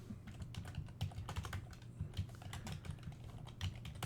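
Fast typing on a computer keyboard while entering a folder name, a close, quiet, steady patter of key clicks with a few heavier strokes, no talk.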